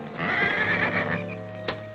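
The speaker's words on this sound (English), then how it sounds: "Them horses may start sounding off again" A horse whinnies loudly and close for about a second and a half in a wavering call that fades out, ending with a brief sharper burst.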